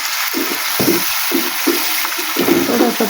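Water is added to frying fish masala in a pan, giving bursts of sizzling and bubbling that come in short irregular pulses over a steady hiss, close and fairly loud.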